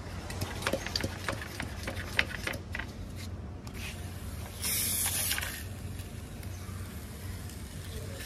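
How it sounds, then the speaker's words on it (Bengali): Water is sprinkled lightly by hand over freshly sown sunflower seeds, making soft hissing spray bursts with scattered patters, then a louder brief spray near the middle over a low steady background hum. "এরপর আমি এর উপরে হালকা হালকা করে জল দিয়ে দিচ্ছি।"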